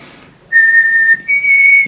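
A person whistles in imitation: after a brief quiet start, two long, steady, sustained notes sound loud and close, the second pitched slightly higher than the first, with a short break between them.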